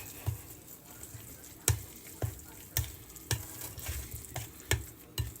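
Mexican casserole mixture being stirred in a pan, a run of soft scraping strokes at a steady, uneven rhythm, close by, with a faint sizzle underneath.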